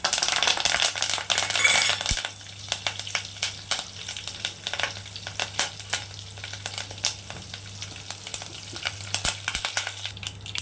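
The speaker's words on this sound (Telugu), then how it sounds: "ముందుగా మెంతులు, జీలకర్ర, ఆవాలు, కరివేపాకండి." Fenugreek, cumin, mustard seeds and curry leaves fry in hot oil for a tomato pulusu, giving a steady close crackling sizzle with scattered pops and sputters throughout.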